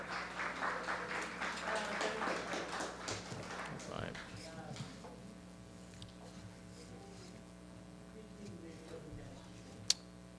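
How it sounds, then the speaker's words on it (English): A crowd claps for a few seconds at an awards ceremony, the applause thinning and fading into a quiet room, with one sharp click near the end. "You should give another round of applause to Hassan Khan."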